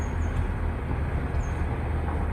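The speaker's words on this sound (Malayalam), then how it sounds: "നമ്മുടെ ട്രെയിൻ വന്നിരിക്കുകയാണ്." A train from Jabalpur bound for Katra pulls into a small railway station, producing a continuous, loud rumble and roar of rolling wheels and carriages close by, with no voices.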